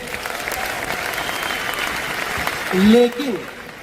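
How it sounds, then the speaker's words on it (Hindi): Applause from a stadium audience at a large motivational business event in Delhi, a steady even patter of many hands with a voice rising over it near the end. "इसके लिए एक बार ताली बजा सकते हैं।"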